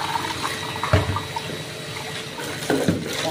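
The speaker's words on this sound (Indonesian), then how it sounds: "Lalu kita tampung air untuk memasak ya." Tap water runs steadily from a faucet into a container for cooking in a home kitchen, a close, continuous splashing stream with no talk.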